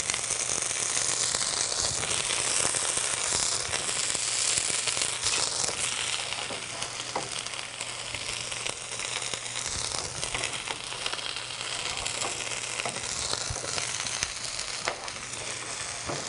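Potatoes fresh from an ice bath fry in a hot pan with loud, steady, dense sizzling and crackling that holds at an even level throughout.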